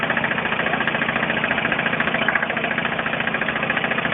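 An engine with no oil in it runs loud and steady, with a constant knocking, rattling idle and nobody talking.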